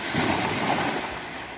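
Ocean waves washing onto a Camarines Sur resort beach at sunset, a steady broadband wash with a light breeze, close and fairly loud, with no talk.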